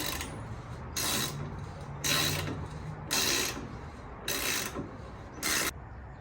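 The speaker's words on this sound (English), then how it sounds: "you can go ahead and start loosening it up slowly" A wrench and socket loosening a nut on a Can-Am X3 during a shock tower brace install: five separate bursts of rapid ratcheting clicks about a second apart, close and clear over quiet background.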